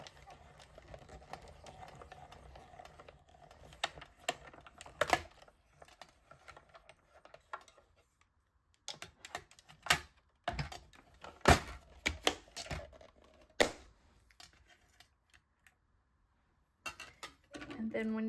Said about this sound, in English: I am using the mini die cutting and embossing machine